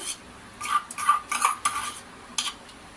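Homemade curd starter is stirred into cooled milk with a spoon in a bowl, giving a few close, irregular scraping clinks spread over a few seconds.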